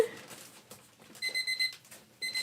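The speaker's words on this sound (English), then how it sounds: "oh, there's my timer again." A kitchen timer alarm rings nearby in two bursts of quick, shrill electronic beeping, with a short gap between them, over a quiet room.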